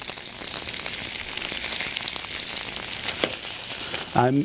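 Breaded fish fries in oil in a non-stick pan on a medium-low stove, a dense, even crackling sizzle close by throughout, with a couple of small clicks and a brief voice at the very end.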